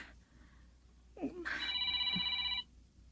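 A cellphone rings with a bright, steady electronic tone lasting about a second, sitting in a quiet indoor setting in an Ilocano radio drama, with a soft shuffle just before it.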